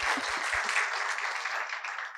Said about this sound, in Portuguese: Uma salva de palmas, pessoal, para Maria Busdogan.